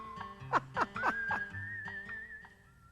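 A man whistles a little cowboy tune in a sustained, wavering melodic line, heard fairly softly alongside light laughter and chuckling on an old 1980s children's drawing program.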